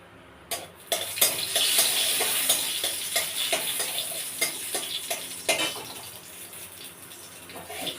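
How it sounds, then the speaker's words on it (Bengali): Dried red chillies frying in oil in a pan, a loud close sizzle with repeated sharp spits and pops and occasional clinks of a utensil against the pan. "শুকনো লঙ্কাটা ভাজছি আমি"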